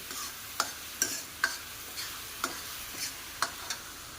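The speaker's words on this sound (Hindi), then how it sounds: "तो सब भून लेती हूँ मैं मसाले को अच्छे से" Masala being fried and stirred in a cooking pan before chickpeas go in: a steady soft sizzle with a spoon clinking and scraping against the pan at irregular intervals, close by, with no talking.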